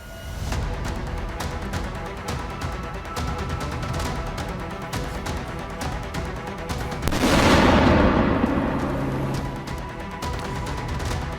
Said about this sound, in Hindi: कमांड पोस्ट के परखच्चे यहां पर उड़ा दिए गए। खारकोव में रूसी सेना ने इस अटैक को अंजाम दिया है।